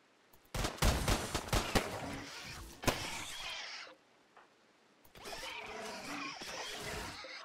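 Defensive turrets firing in RimWorld: rapid bursts of close gunfire in a dense stretch, a lull, then another sustained volley, with the shots crackling loudly against a quiet background.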